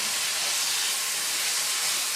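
Seasoned fajita meat hisses in a hot pan as added water steams off, a steady close sizzle that holds evenly throughout with no talking.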